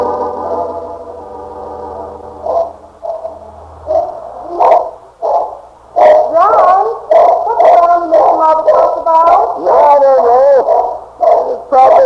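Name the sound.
dog barking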